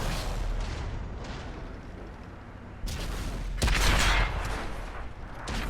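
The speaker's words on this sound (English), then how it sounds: "That's an easy shot on the E100 to finish him off." Heavy tank cannon fire in World of Tanks, a deep booming blast rising over a continuous rumbling engine and battle din, with a second louder shot partway through; no speech.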